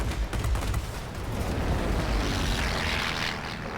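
Rapid cannon fire from the J7W2 fighter plane in World of Warplanes, a dense, loud continuous roar of gunfire blended with engine drone, sustained throughout with no pauses.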